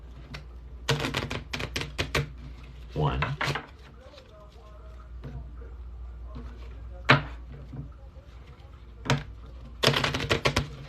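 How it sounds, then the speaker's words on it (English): A deck of tarot cards is shuffled by hand in sharp, close bursts of riffling and snapping, separated by quieter pauses with occasional soft handling and a brief spoken count. "then I will do a classic shuffle."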